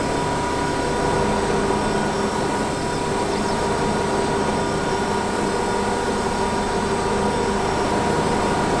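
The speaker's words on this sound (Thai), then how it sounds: "นี่คือเสียงรถนะครับเสียงรถเปล่าๆเลยนะครับ" A tractor engine in Farming Simulator 22 drones steadily with a dense, even rumble and hum, unbroken and loud throughout.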